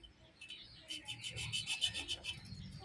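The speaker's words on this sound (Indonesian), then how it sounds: "Jadi di setiap sambung-sambungannya ini kita amplas sedikit agar proses pengelasannya itu lebih mudah." Quiet rhythmic rasping of sandpaper scrubbing refrigerator copper pipe joints before welding, short back-and-forth strokes, close but faint.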